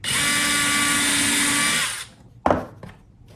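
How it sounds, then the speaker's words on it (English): A power drill drives a screw into the wooden frame of a model railroad staging yard, a steady high whine for about two seconds that stops, followed by a couple of short clunks of wood. "drill and screw"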